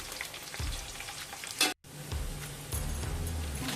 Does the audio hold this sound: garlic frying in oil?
yes